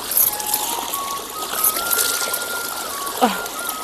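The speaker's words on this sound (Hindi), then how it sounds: "हमारे गांव का पंदेरा है, और यहाँ पर बहुत ही ज़्यादा ठंडा पानी आता है" Cold spring water trickles and flows steadily at a village water source in the hills, fed from the roots of oak trees, a close, continuous watery babble with a brief splash near the end.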